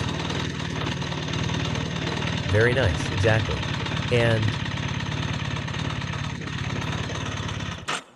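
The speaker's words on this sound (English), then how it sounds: "Let's start the engine." A BMW R1300 RS motorcycle engine runs at a steady, loud, throbbing idle, with someone talking briefly over it.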